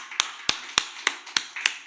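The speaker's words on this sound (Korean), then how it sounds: "힘차게 힘있게 한번 박수 한번 칩시다" A congregation at a Sunday worship service claps in unison: six sharp, evenly spaced claps in a steady rhythm, fairly close and clear, with no talking over them.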